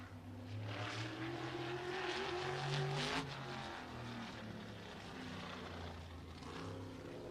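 A short-track race car at Showtime Speedway in Pinellas Park, Florida, roars under green flag into turn one, a loud sustained engine drone rising and shifting in pitch as it passes and pulls away into the corner.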